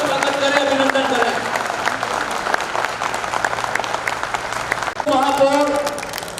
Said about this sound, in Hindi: एक बार तालियों की जोरदार करतल ध्वनि से हम उनका स्वागत करें